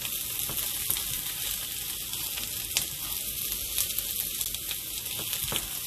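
Garlic and onion fry in a pan with a steady, loud sizzle that carries through the whole stretch, broken by a few crackles and pops, with no voices.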